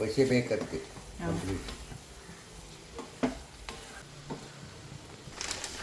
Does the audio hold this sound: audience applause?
no